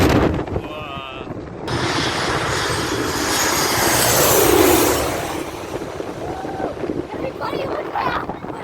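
A jet airliner roars low overhead, swelling to a loud peak and then fading, with heavy wind buffeting the microphone.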